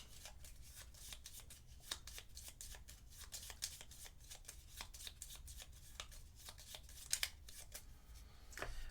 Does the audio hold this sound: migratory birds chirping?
no